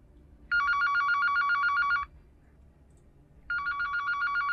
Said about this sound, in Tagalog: Narinig ang biglang pagtunog ng kanyang telepono.